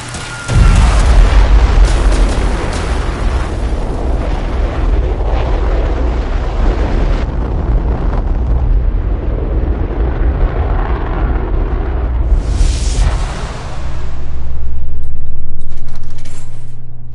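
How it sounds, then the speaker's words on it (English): A rocket engine test firing in Fallout 4 roars loudly and steadily for about thirteen seconds with a deep rumbling, mechanical rattle, then cuts off into a lower, swelling hum. "Engine firing."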